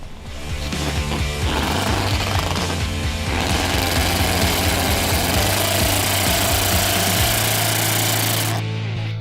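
A radio-controlled car fitted with saw blades in place of wheels grinds and saws loudly and continuously up close, its harsh motorized buzz rising in intensity partway through and running on without any voices.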